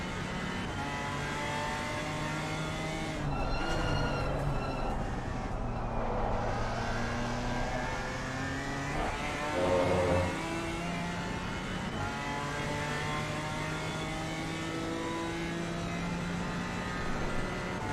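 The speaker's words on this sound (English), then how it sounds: "I love the sound of this engine." Race car engine in a PC racing game at Brands Hatch, a steady droning note with rising and falling pitch as it accelerates and shifts, loud and continuous throughout with brief surges around the middle.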